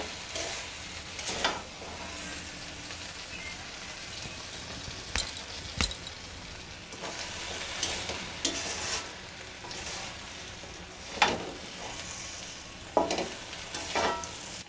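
Jujube pickle cooking slowly in a pan over low heat as sugar melts, with a soft continuous sizzle and occasional stirring scrapes and clinks, no talk.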